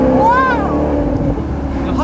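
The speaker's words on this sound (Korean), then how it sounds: "단순히 큰 게 아니라 이렇게 매력적인 배기음이니까" Maserati GranCabrio convertible exhaust note, loud and close, sweeping up and then easing back into a steady drone, with voices in the background.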